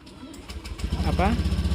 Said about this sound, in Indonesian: Nah ini nyala starternya atau mesinnya nyala.